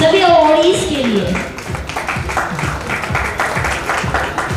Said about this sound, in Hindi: एक बार जोरदार तालियां बजती रहना चाहिए हमारे सभी अवॉर्डीज के लिए